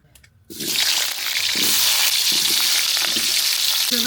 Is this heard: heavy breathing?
no